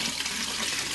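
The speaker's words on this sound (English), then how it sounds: "So we're just going to pour out this water." Water pours out of a reverse osmosis filter housing that held a carbon block filter, a continuous close splashing gush with no talk.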